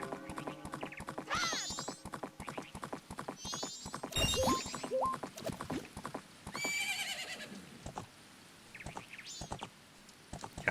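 Rhythmic galloping hoofbeats with a horse whinnying and assorted chirpy electronic game sound effects from The Legend of Zelda: Majora's Mask layered over them, loud and busy.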